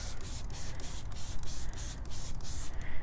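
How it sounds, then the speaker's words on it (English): A foam sprayer hisses steadily as it coats the face and barrel of a muddy truck's wheel, a close, continuous spray with faint rhythmic pulses running through it. "We're gonna go and spray the face of the wheel"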